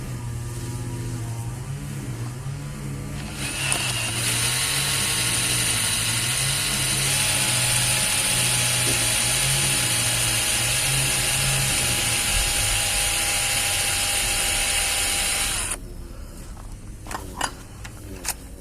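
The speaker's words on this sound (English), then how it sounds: "So I'm going to drill that one and extract it" A high-pitched power drill whines steadily for about twelve seconds drilling out a screw on a 2006 Polaris 600 RMK snowmobile carburetor, then stops, followed by a few clicks and light mechanical taps.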